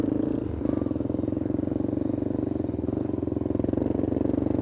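A Sportrax 400EX ATV engine fitted with an FMF Powerbomb exhaust runs steadily and loud up close, a continuous throaty drone with a slight pulse and a brief dip just before the throttle comes back on.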